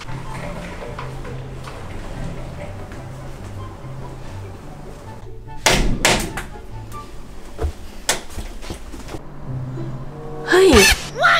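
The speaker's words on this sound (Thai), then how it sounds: "เสียงประตูใครขึ้นมา" Indoor door opens and shuts with a couple of sharp thuds and clicks partway through, followed by another loud knock-like bang near the end, over a soft background of ticking and a low tonal bed.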